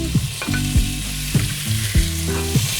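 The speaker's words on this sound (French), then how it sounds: "Donc côté peau pour que ce soit bien frit" Salmon with persillade frying skin side down in a pan gives a loud, constant close-up sizzle, with tonal, gliding sounds layered over it.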